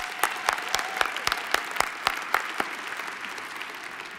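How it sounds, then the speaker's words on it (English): A convention crowd at the 2018 AFT gathering applauds in a steady patter of claps with a few sharper individual claps standing out, fading slightly toward the end. "give Mr. Brandon Johnson just one more round of applause"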